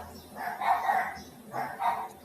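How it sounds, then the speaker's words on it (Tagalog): Dogs bark from nearby homes in two separate bursts of yapping, a cluster early and another near the end, moderately loud over a quiet background. "Ang ingay ng aso dito."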